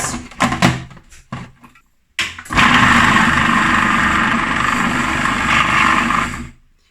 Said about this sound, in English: then we're gonna blend this